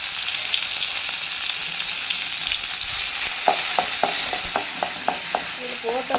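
Minced mutton frying in oil in a pan, a steady bright sizzle with irregular clicks and taps of stirring growing more frequent toward the end.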